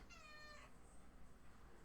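A cat with a small white spot on its chest gives a single clear, rising-then-falling meow up close, followed by quiet room background.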